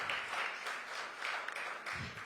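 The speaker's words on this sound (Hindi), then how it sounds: "तो बहुत तालियों से स्वागत करिए इन तीनों का" An audience at a youth conclave applauds to welcome three guests, steady mid-level clapping continuing throughout the short stretch.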